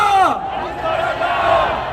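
Crowd at a Gwanghwamun rally chanting slogans in unison, a loud swelling mass of voices that rises and falls.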